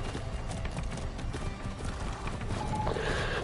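A white horse's hooves clip-clop in a steady walking rhythm in the video game Far Cry 6, fairly close over soft outdoor ambience.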